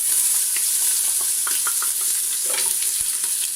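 Onion fries in a little oil in a cooking pot, giving a loud, steady hiss of sizzling with a few soft scrapes and taps from stirring.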